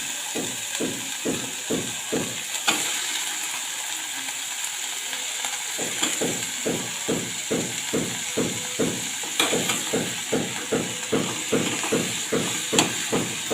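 Brinjal pieces sautéing with onion and tomato in a pan for a Tamil brinjal groundnut kuzhambu, a steady sizzle cut by regular rhythmic stirring scrapes, close and fairly loud, with no talking.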